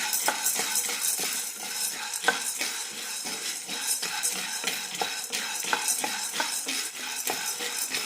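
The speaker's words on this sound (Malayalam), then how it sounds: "മീഡിയം ഫ്ലെയിമിലിട്ട് വറുത്തെടുത്താൽ മതി" Dry red cowpeas roasting over a medium flame are stirred in a pan, making a steady rattle of hard beans with sharp, repeated scrapes and clinks from the spoon and a faint sizzle underneath; there is no talking.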